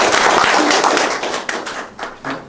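An audience applauds after a lecture, with fairly close, brisk clapping from a modest crowd that thins out over two seconds into a few last separate claps.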